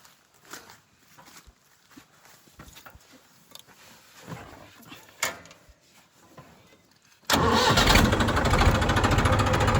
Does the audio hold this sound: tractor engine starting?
yes